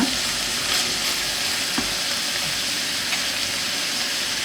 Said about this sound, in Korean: 수분이 나오면서 네, 서서히 익으면서 볶아줍니다